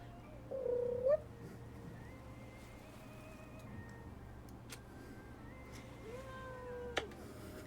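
A cat gives a couple of soft, drawn-out meows over a quiet, low steady hum, close and faint with short pauses between calls.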